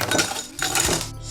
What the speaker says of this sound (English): Throw in the crushed ice, soda or sparkling water.